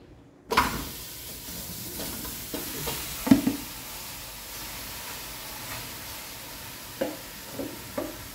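Pork leg meat hits a hot pan without oil with a loud sizzle, then steady frying crackle continues while it is stirred and scraped a few times.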